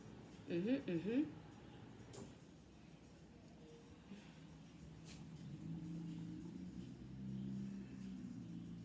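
A car passes outside as a low, faint rumble that swells and fades under a person's speaking voice.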